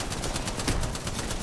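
Rapid automatic gunfire from an Apex Legends fight, a steady fast rattle of evenly spaced shots at moderate distance, fairly faint and continuous, with no talking.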